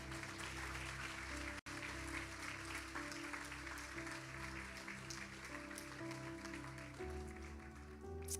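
Dense, sustained applause from a large church congregation fills the space, steady and loud throughout, with a low musical hum underneath.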